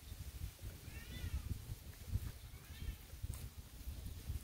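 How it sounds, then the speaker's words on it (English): A cat meows faintly in the background indoors, two short plaintive cries a second or so apart over low room noise. "I don't know if you can hear my cat in the background."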